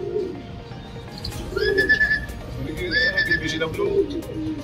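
Racing pigeons coo close by on a roof in soft, repeated low calls, joined by a few brighter bird notes, with a voice briefly audible in the background.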